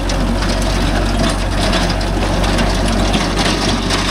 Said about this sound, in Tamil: இந்த கொபோட்டோ ஓடுறதுக்கும் சவுண்டு பார்த்தீங்களா எவ்வளோ ஸ்மூத்தாக ஓடுது